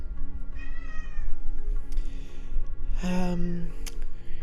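A pet cat meows loudly close by indoors, several drawn-out calls with one strong cry near the end, over a steady low background hum.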